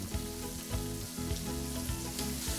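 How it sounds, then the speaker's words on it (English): Crab pieces flash frying in hot oil crackle and sizzle loudly and continuously, with low bubbling pulses rolling underneath at a steady rhythm. "I just want to flash fry it quickly"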